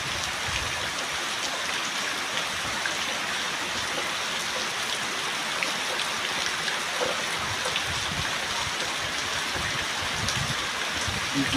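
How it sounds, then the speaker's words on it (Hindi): Heavy rain pours down in a dense, unbroken hiss that stays at an even loudness throughout, with no speech over it. "आई वर्षा देखुन केते जोर वर्षा"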